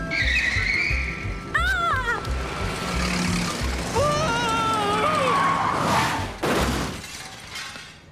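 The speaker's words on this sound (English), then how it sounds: "Oh dear, I think you've hit someone's car." A car skids with squealing tires, then crashes into another parked car with a loud shattering impact and breaking glass in a cartoon street scene, the sounds full and continuous throughout.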